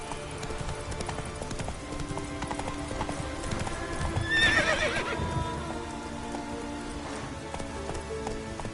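Roach, a horse in The Witcher 3 video game, trots with a steady clip-clop of hooves over soft rain, and a brief whinny rises midway.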